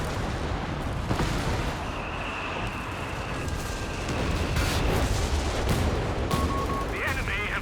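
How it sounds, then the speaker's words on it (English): Artillery and gunfire in a Company of Heroes 3 4v4 tank battle, a dense, continuous barrage of shots and blasts with faint whistles and tones layered in, loud and steady throughout. "Just a lot of artillery in the middle"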